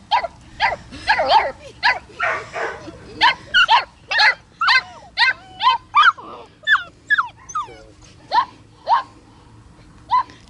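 Young male puppies meeting sheep for the first time let out a rapid series of high, sharp yips and barks, close and loud, with a voice briefly heard early on.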